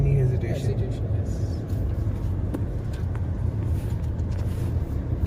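A Jeep Meridian 4x4 SUV climbs a steep off-road incline, its engine a low steady rumble under a cabin drone, with a voice speaking over it and a few faint clicks.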